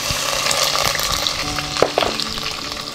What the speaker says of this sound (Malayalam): ഇനി ഇതിലേക്ക് വെളുത്തുള്ളി ഇഞ്ചിയും കൂടി ചേർത്ത് കൊടുക്കാം.